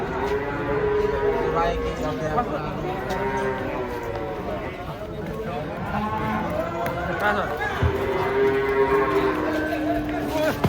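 Several cows low in long, droning calls throughout, blending with a noisy market crowd and voices talking close by.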